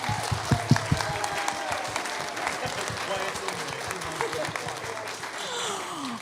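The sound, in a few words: church congregation applauding the kids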